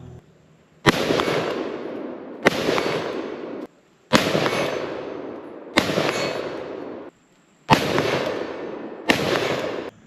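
Six loud, evenly spaced gunshots from an IWI ACE 5.56 pistol fitted with a Silencer Co. ASR, each a sharp crack followed by a long echoing tail, about one and a half seconds apart, with no talking.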